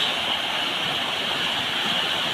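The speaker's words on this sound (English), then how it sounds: "water flowing by boats." Broadband river water rushing steadily past fishing boats on the Laoti river in Chirang, Assam, a continuous close hiss with no talk.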